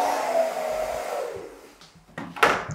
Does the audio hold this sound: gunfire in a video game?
no